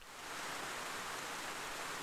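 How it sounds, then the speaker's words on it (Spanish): Rain in the video game GTA San Andreas, a steady broadband hiss that fades in quickly and then holds even and unbroken, soft and alone. "Me gusta la lluvia, ¿eh? Me gusta."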